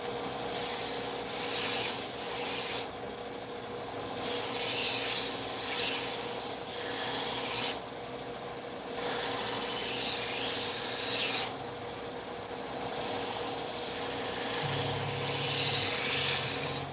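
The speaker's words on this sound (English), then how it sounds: "ceramic honing rod by placing it flat on the back to move it this way, and then coming over and going edge leading on the, the fine little apex bevel" A knife edge drawn along a ceramic honing rod makes long, loud rasping strokes, about five sustained scrapes separated by brief quieter gaps, close up and alone.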